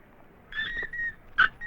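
A puppy whimpers in a Tamil film scene with two or three short, thin, high-pitched whines separated by brief pauses, close by and quiet, with no speech.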